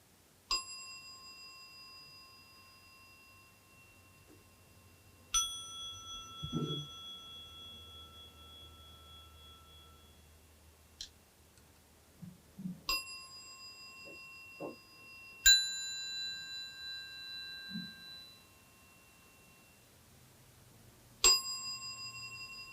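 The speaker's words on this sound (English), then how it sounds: "Okay, so matching the bells." Montessori tone bells are struck one at a time to match pitches, each clear ringing note decaying slowly, with quiet pauses and soft handling knocks between strikes in a calm room.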